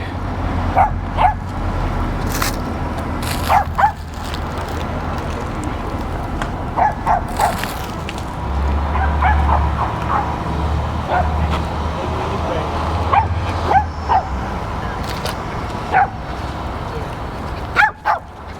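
Dogs bark and yip in repeated short bursts at a Los Angeles dog park beside the LAPD headquarters, fairly close, mixed with whimpers and people talking over a busy urban hum.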